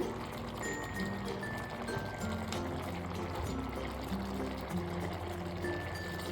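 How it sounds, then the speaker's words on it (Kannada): Ghee spooned into a pot while cooking marriage-style ghee rice, a faint soft pouring trickle sitting under a steady background hum, quiet and continuous with no talk. "ತುಪ್ಪ ಹಾಕ್ಕೊಳ್ತಾ ಇದ್ದೀನಿ, ಒಂದು 2 ಸ್ಪೂನು."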